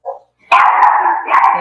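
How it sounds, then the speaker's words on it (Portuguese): Dogs in a house bark loudly and close by, starting with one short yip and then breaking into a sustained, overlapping burst of barking. A second surge of barks follows near the end, with no talking over them. "Meus cachorros, meu microfone estava ligado."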